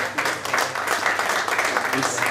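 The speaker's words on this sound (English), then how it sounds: "So give him a round of applause." An audience applauds an award winner at a Super Grand Prix press conference, a steady, loud patter of many hands clapping throughout, with a voice speaking over it.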